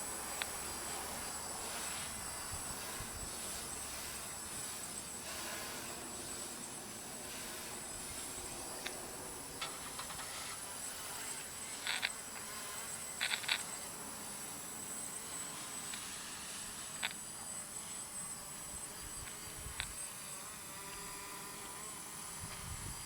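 Drone fitted with three-blade 15-inch propellers flying outdoors in gusty wind, giving a faint, steady distant buzz with scattered small clicks and bumps over about twenty seconds.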